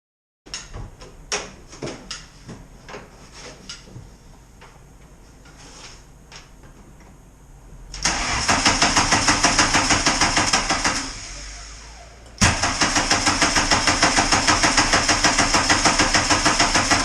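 An ABA MK2/MK3 hybrid car engine, freshly installed, is heard after a few clunks and clicks of handling, then cranks and catches into a loud, rhythmic idle, cuts briefly and restarts into a close, steady running chug.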